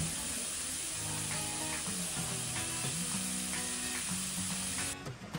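Green peas cook in a pan as the filling for Maharashtrian thalipeeth flatbread, giving a steady, fairly loud sizzle that runs unbroken for several seconds before stopping abruptly near the end.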